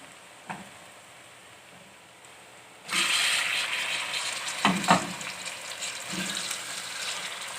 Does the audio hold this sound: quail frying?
yes